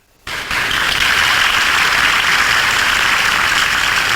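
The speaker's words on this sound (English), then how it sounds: "How about a round of applause for that?" A round of applause on a sports talk show anniversary broadcast starts suddenly and stays loud and dense, many hands clapping in a steady wash that sounds almost like heavy rain.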